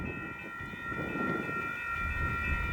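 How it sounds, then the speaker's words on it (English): A Union Pacific priority freight train rumbles through Cedar Falls Junction, a sustained low roar of rolling cars under a steady multi-tone horn chord, loud and close. "I'll bet this is a priority train"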